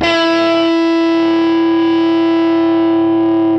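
Electric guitar played through a Fuzz Face fuzz pedal, one loud single note heavily distorted and sustaining as it slowly decays, close and alone.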